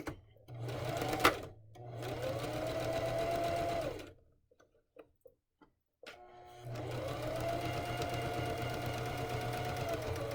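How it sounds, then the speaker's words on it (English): A sewing machine stitching darts in fabric runs in two steady whirring bursts with a short quiet pause between them, close and fairly loud. "Press her foot down, 3 or 4 stitches."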